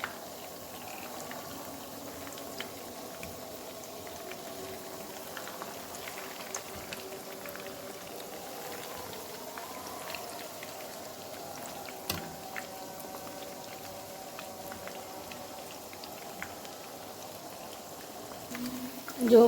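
Homemade hash browns fry in a pan, giving a soft, steady bubbling sizzle that runs evenly throughout with a few faint clicks and no voice over it.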